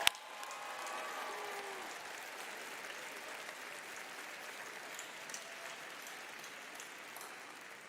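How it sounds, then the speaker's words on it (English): A large crowd at a college commencement ceremony applauds in a dense, steady wash of clapping that begins abruptly and holds at an even level, with faint cheers. "give your parents, families, loved ones, and friends a round of applause"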